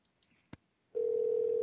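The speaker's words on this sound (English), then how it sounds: "There it goes. It's ringing." A Skype call rings out after a brief click and a short pause, sounding as a steady, sustained electronic tone that continues to the end without speech.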